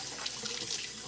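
A sink tap runs steadily, a close, continuous splashing hiss of water with no voices.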